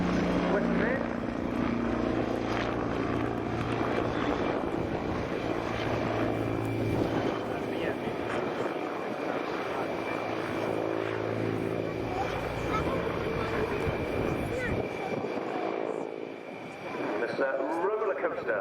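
An Agusta Mangusta attack helicopter makes a low pass along the display line at the Royal International Air Tattoo 2023, its rotor and engine a continuous loud roar that swells and fades, with commentators talking over it.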